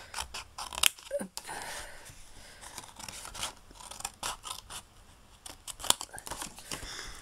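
Scissors snipping paper to trim a scrapbook frame embellishment, a series of quiet close crisp cuts with paper rustling between them.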